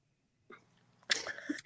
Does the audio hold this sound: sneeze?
yes